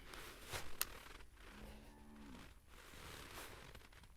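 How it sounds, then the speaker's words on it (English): A single drawn-out cow moo with a wavering pitch, heard at a distance in an open field at a long-range rifle shooting session, set against wind and outdoor background noise. "The cows are cheering us on."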